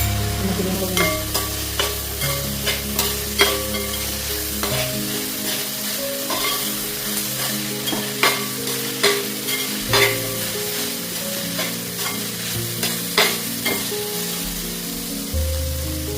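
Curry leaves and chili powder fry in hot oil for a chicken curry, giving a loud, steady sizzle with repeated scraping stir strokes and clinks of the spoon against the pan, close up throughout.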